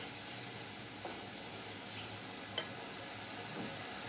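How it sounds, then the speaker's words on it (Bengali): Spice masala with cumin powder being sautéed for a rohu fish curry, a quiet steady frying hiss with a few soft stirring clicks, faint and close. "একটু কষিয়ে নিব মশলাটা মশলা কষানো হয়ে গেছে"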